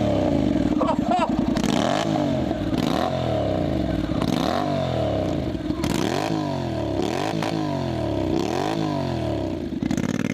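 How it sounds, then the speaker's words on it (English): A Honda NC700 motorcycle engine revs repeatedly in a rhythmic series of rising and falling blips, loud and close, with background clatter. "And instantly, Dave, you have a world superbike sounding motorcycle."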